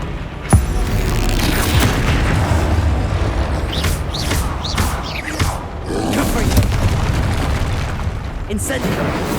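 Confringo explosion spells in Hogwarts Legacy, a string of heavy booms and bursts layered over rumbling game action, with sharp crackling hits spread across the whole stretch, loud and busy, alongside combat effects.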